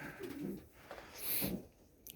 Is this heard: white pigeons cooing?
yes